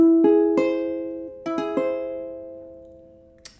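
Piano augmented triad for ear training, struck as a broken arpeggio of three notes, then played again with notes close together, ringing and slowly decaying alone in a quiet room.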